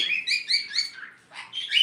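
Cockatiels calling at a bird farm in Bangladesh, a run of bright, close chirps and whistles in quick succession with a short pause near the end before more calls.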